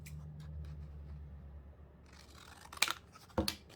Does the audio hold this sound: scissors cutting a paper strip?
yes